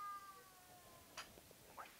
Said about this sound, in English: My fucking cat's yelling at the door.